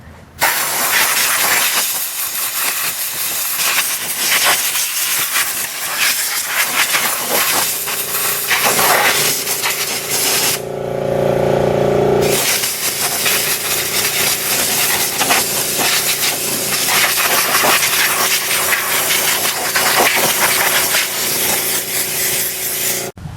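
A leaf or air blower runs steadily and loudly for the whole stretch, clearing debris around a John Deere 345 garden tractor before an oil change, with a brief dip in the rushing noise midway.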